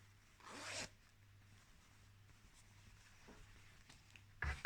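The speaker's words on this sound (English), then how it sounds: "And then we can access the zip very easily" A zip on fabric, sewn in as a concealed zip, is drawn open in one quick close rasp, followed by quiet handling and a few faint rustles, then a sharper fabric sound at the end.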